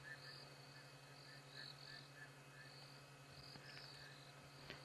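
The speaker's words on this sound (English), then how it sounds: "If I'm not mistaken, a flatback toad." A flatback toad calls from nearby at night in a repeated rhythmic pulse, faint and steady over insect buzz and a low hum.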